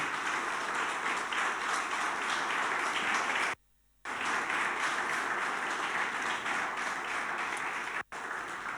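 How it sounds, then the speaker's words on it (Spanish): Sustained applause from a church congregation during a morning service, dense and even, with a brief silent gap midway and a short dropout near the end. "¿Por qué no le das un aplauso al Señor en esta mañana?"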